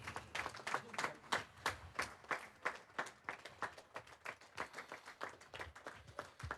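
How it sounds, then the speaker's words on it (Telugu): Rhythmic group clapping from listeners at a spiritual discourse on the Soundarya Lahari, distinct sharp claps in a fairly steady beat that swell and fade, moderately close and without speech. "అందరు గట్టిగా చప్పట్లు కొట్టండి"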